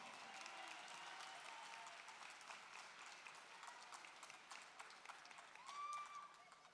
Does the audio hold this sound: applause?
yes